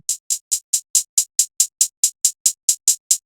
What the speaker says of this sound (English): Then I added this super complex hi-hat pattern.